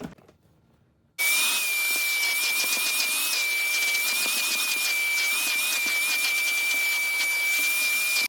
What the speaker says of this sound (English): So you start with a vacuum.